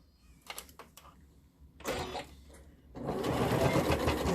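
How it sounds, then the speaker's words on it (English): A sewing machine runs in short bursts, then settles into a steady, loud continuous stitching whir, close by with no voices, sewing bias binding on a scrubs neckline. "So come along to the sewing machine."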